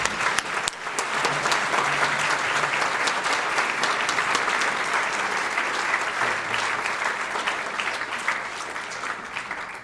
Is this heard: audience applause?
yes